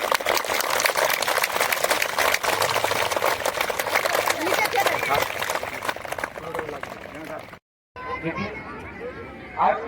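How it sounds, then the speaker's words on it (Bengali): Loud audience clapping at an annual school sports meet after a torch race start, a dense sustained patter mixed with crowd babble for several seconds before a brief break and a voice on the PA. "হাততালি জোরে।"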